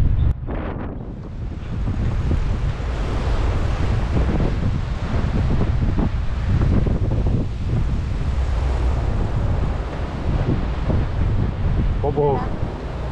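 Ocean waves and strong wind in Taiwan, a loud continuous roar dominated by gusts buffeting the microphone, with voices faintly present beneath.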